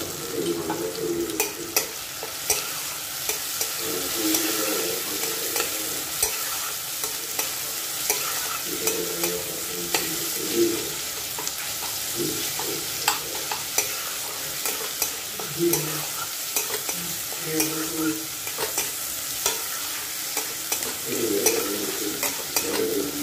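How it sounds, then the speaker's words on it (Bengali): Chopped ingredients frying in hot oil for dal fry, a constant close sizzle broken by repeated scraping and clacking strokes as a spoon stirs the pan over a long stretch. "তেল গরম হয়ে গেছে, যেগুলো কেটে রেখেছিলাম ওগুলো দিয়ে দিলাম।"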